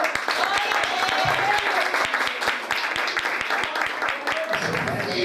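A congregation claps inside a Pentecostal church, a steady patter of many hands with sharp individual claps standing out, while voices carry over it throughout.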